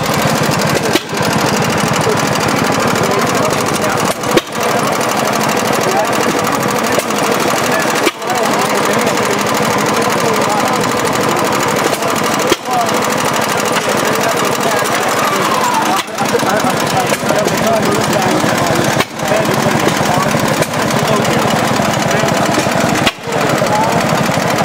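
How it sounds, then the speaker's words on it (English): A Mead Mighty Mouse mini dozer's small engine runs steadily and loudly throughout, a constant close mechanical drone with brief dips every few seconds. "Learn how to drive a mini dozer."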